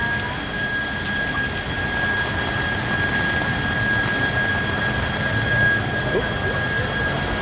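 Steady rain falls on a city street outside a German beer house, a constant broadband hiss of drops hitting pavement with a faint continuous tone running through it.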